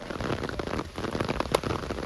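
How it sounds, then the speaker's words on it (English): Steady rain falls over an outdoor wiffle ball game in Springville, Iowa, a dense, even hiss of drops on surfaces with one brief sharper tap, no voices. "And the rain begins to fall here in Iowa."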